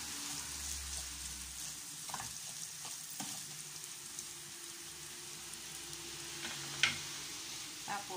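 Rice is stirred into a sizzling mixture in a frying pan for cabbage rolls, with a steady frying hiss and a few scraping spoon strokes and clinks against the pan.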